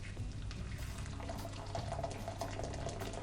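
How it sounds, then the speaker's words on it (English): Water pours steadily into a pot of stock while sage and onion stuffing is made, giving a continuous soft splashing and trickling over a low kitchen hum, with no voices. "I'm going to add some water into the stock"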